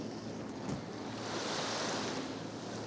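Small waves washing onto a cozy little beach in Salou, Spain, a soft, continuous surf hiss with faint wind, distant and low in level.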